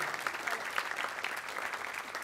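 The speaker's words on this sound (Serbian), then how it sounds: "jedan veliki aplauz za njih" An audience on a television show applauding dancers, dense steady clapping from a crowd that fills the whole moment, fairly loud and continuous.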